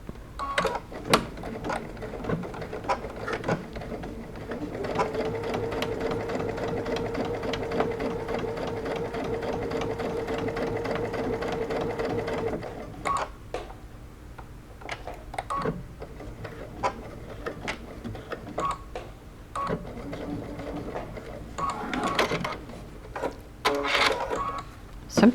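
A sewing machine stitches together fabric pieces of a bucket hat with a half-inch seam, running steadily for about twelve seconds, then giving way to short bursts of stitching amid handling clicks and rustles; no one speaks.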